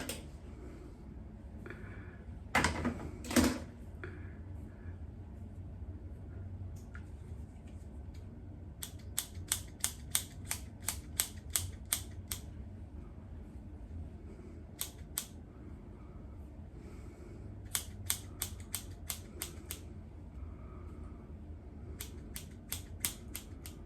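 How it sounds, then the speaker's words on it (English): Scissors snip the fringe of an injected poly hairpiece, a long run of sharp, quick close-up cuts arriving in short bursts against a quiet room. "But I will cut off this fringe a bit."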